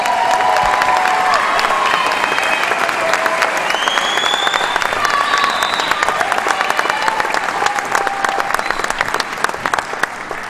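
A large audience at a senior night ceremony applauds military inductees, dense and loud continuous clapping that holds steady throughout, with a few whoops and cheers rising above the crowd.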